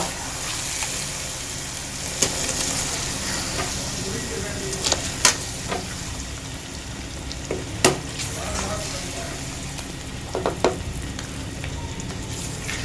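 Blended spinach is stirred into chicken frying in a pan, giving a continuous loud sizzle with occasional scrapes and knocks of a spoon, heard close with no talk.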